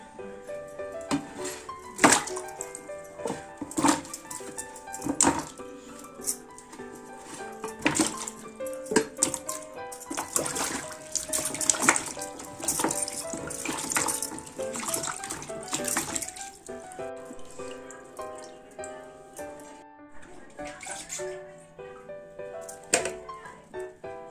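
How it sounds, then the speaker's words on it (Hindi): Peeled carrots are rinsed in water in a village kitchen, giving soft, irregular splashes and light clinks of a vessel, fairly faint, over a steady tonal background. "अब एला पानी में धो लेना है बे।"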